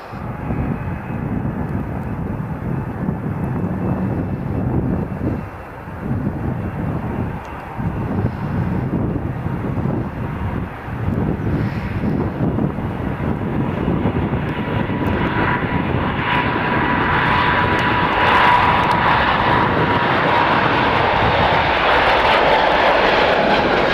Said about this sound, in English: got the Ryanair departing as well, might as well get that